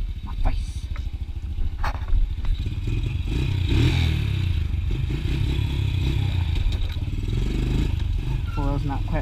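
An ATV engine runs and revs with a rough, clattering mechanical drone, rising to a sustained loud roar while people talk nearby.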